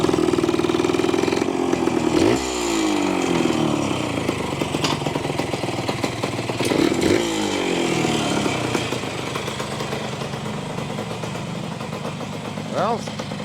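A 1973 Yamaha ATMX 125 two-stroke motorcycle engine runs loud and close, rising and falling with throttle blips, with a slipping clutch; a voice speaks briefly over it.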